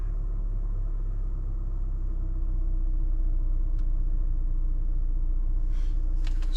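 A 2019 Mazda CX-5 engine with a high-idle fault, idling as a steady low rumble with a faint hum, close and continuous, with a couple of small clicks near the end and no talking.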